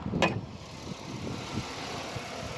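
A car's 3.8 V6 engine idles quietly and steadily, a soft low hum after one brief knock at the start.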